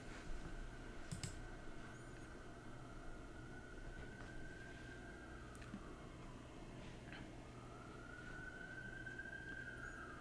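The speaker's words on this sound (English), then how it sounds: "More sirens." A faint, distant siren wails, rising and falling slowly over a quiet background of street noise in San Francisco's Tenderloin.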